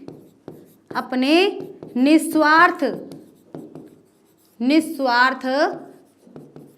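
Chalk or pen strokes on a board during a Sanskrit lesson for UP Board class 10, short scratchy marks scattered between and under a teacher's close, clear speech.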